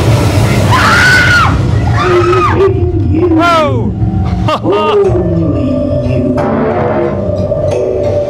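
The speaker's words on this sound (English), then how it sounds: "There, she's screaming." A woman screams in a horror escape room in Las Vegas, loud shrill cries rising and falling several times over dense background noise and crowd-like babble, with some roaring effects mixed in.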